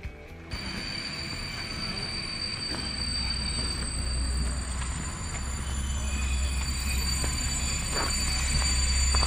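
A blue Czech train at a railway station near Bayerisch Eisenstein and Špičák, a steady low rumble with squealing wheels that grows slightly louder, close by, with no talking.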